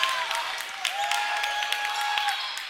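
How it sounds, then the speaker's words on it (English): Crowd at a boys high school basketball game in a gym, a broad wash of cheering and clapping with sharp sneaker squeaks and scattered claps throughout. "The crowd getting into it suddenly here in Richfield."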